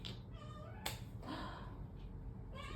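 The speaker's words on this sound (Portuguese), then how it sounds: "Meus gatos estão brincando." House cats at play meow and yowl indoors, several faint high-pitched calls scattered across a few seconds, with a small sharp knock partway through and no talking.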